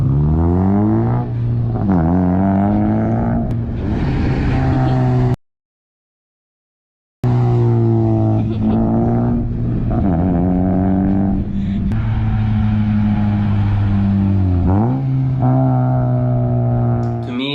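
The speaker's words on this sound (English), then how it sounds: "So this is what it would sound like if you were to take off the resonator." A 9th-gen Honda Civic Si with an aftermarket exhaust and the resonator removed revs loudly and raspily in repeated rising and falling pulls, close up, broken by a short silent gap midway.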